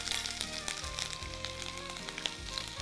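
Ginger sizzles steadily in hot ghee and oil, a continuous close crackling hiss with faint tonal hum beneath and no talk.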